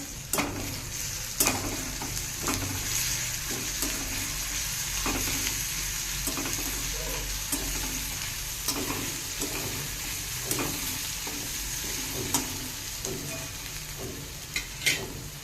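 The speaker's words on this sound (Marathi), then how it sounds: "व याला छानपैकी परतून घेऊया।" A spice paste for aloo litti sautéing in a hot pan, a steady close sizzle broken by regular scraping strokes of a spatula, with no voices.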